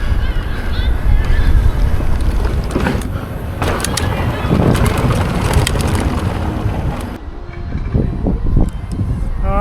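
Strong gusts buffet an outdoor microphone in a steady, loud roar throughout, with someone talking over the wind.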